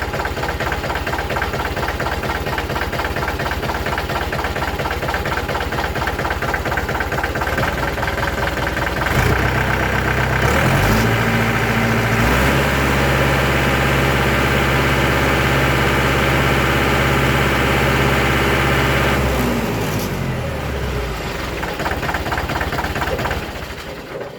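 Mahindra 595 Turbo tractor diesel engine running close by, a loud steady idle with rhythmic knocking pulses, rising in revs partway through and holding a heavier drone before settling back to idle.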